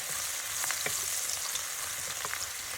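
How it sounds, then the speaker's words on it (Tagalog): Butter melts and chopped spring onion sautés in a pan, a soft continuous sizzle with faint crackles and occasional stirring scrapes, close and fairly quiet with no talk. "tunawin lang natin yung butter bago natin ilagay yung 1 cup na sibuyas dahon, chopped spring onion"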